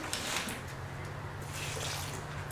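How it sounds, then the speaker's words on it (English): Water poured into a stiff tile thinset mix for a kitchen countertop job, a steady close splashing wash that runs throughout with no talk. "I'm just going to take a little dab of water"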